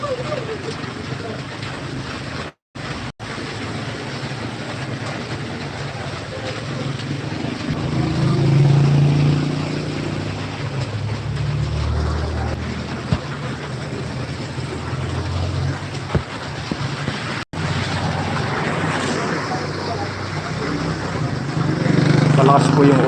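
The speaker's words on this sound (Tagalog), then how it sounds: "Malakas pa rin yung ulan." Heavy rain falls steadily in Bayambang, Pangasinan, near a road to the market, a constant broad rushing roar with gusty swells. Someone talks intermittently over it.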